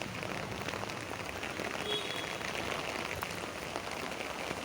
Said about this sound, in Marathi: आणि पाऊस तर एवढा जोरात चालू.